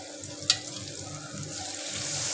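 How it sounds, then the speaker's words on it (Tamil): Tamarind water hits a hot pan and sets off a steady, spreading sizzle that grows slightly louder, with one sharp clink near the start, while cooking garlic kuzhambu. "இப்போ கரைச்சி வச்ச புளி தண்ணியை நம்ம சேர்த்துக்கலாம்"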